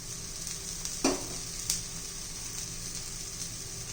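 Oil sizzles steadily around a pea and gram-flour poli (vatana besan poli) frying in a pan, a soft continuous crackle with a couple of brief sharper pops early on.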